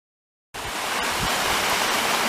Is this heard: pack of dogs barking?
no